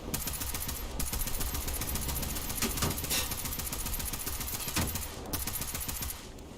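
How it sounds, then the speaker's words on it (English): Sustained machine-gun fire in a War Thunder battle roars almost without pause, a dense, rapid stream of shots held at a steady loud level before easing slightly at the end. "now we're going to start opening fire"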